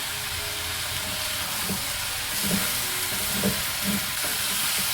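Banana and coconut mixture is stirred in a hot pan, with a steady sizzle and hiss broken by soft, rhythmic scraping strokes at a slow pace.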